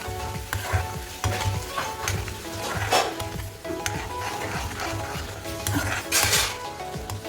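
Biryani being mixed in a pan with a little water added, a steady sizzle under repeated scraping and clinking of a spoon against metal, close and moderately loud.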